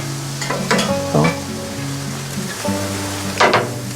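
Large skewered oak chicken sizzles and crackles steadily while roasting over a direct open fire at a camping barbecue, a close, constant frying hiss with occasional sharper pops and stirring sounds.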